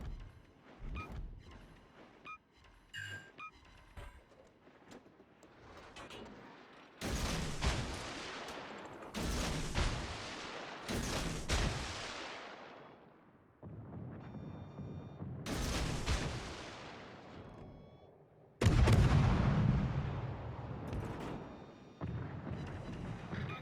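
Naval artillery guns fire at a target in a video game, heavy booming salvos landing one after another, several loud blasts with long rumbling tails and a final especially powerful one, sounding with no talk.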